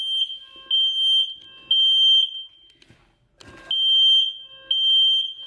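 A dormitory alarm beeps loudly and near in regular repeating tones, broken once by a brief burst of rustling and handling noise before the beeping resumes.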